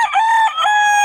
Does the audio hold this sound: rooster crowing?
yes